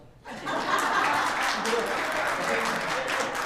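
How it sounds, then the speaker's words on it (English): A church congregation breaks into warm applause after an opening prayer, rising quickly and holding steady, with some scattered laughter and voices mixed in. "That may be the first time I've seen applause for an opening prayer"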